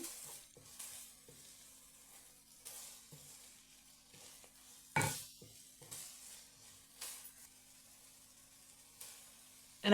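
Kottu roti being stirred and mixed in a pan, with scraping strokes and light sizzling of frying food recurring in irregular bursts throughout, one louder clatter midway and another at the end.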